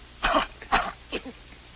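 Three short, breathy coughs in quick succession, close and fairly quiet, with no talking.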